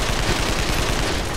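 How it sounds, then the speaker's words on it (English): Sustained rapid fully automatic AK-47 fire, loud and continuous, a dense crackling burst with no pauses. "He raised that AK-47 and began spraying the fully automatic gunfire."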